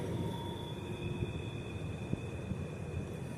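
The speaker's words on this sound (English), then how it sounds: "Train rolling by over there." A distant train rumbles along faintly, a low steady roar with thin tonal whines and occasional clacks over quiet outdoor background on the water.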